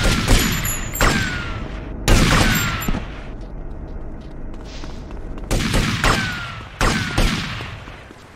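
Gunfire in a mall shootout with police in GTA Vice City: loud bursts of shots in clusters, each with a sharp attack and echoing decay, separated by brief quieter gaps.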